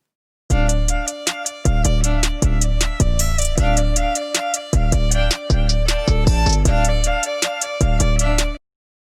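A hip-hop track plays with a viola melody over a punchy drum beat and deep bass, steady rhythmic hits with brief gaps, loud and alone without any voices.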